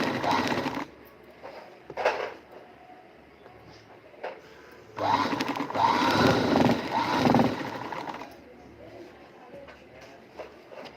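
A sewing machine stitches a double-folded fabric edge. A buzzing motor whirs in a short burst, then in a longer run of several seconds, with quieter fabric handling in between.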